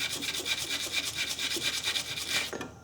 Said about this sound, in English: just clean it off with a wire brush